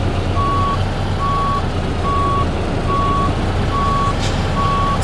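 Reversing beeps from a truck in American Truck Simulator, a loud, evenly spaced series of six steady electronic tones over a constant low engine drone, with no talking.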